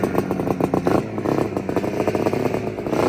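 A Suzuki T500 classic racing motorcycle engine revs loudly and close by, its two-stroke note rising and falling in steady pulses with a rattly, buzzing edge and no talk over it.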